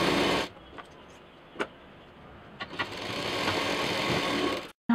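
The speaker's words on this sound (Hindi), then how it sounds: "डबल सिलाई देते हुए कॉर्नर में।" A sewing machine runs a steady double stitch along piping at a corner, with a brief burst, a quieter stretch broken by a few clicks, then a longer continuous whir before it stops.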